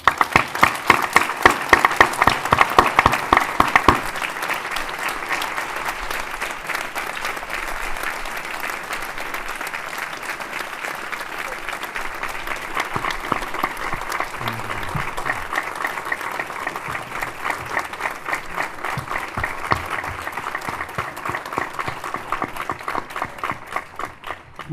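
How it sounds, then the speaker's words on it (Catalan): An audience at a book presentation applauds for a long stretch, starting with loud, close, dense clapping that settles into steady, even applause continuing to the end. "sou molt condescendents i molt generosos en els vostres aplaudiments"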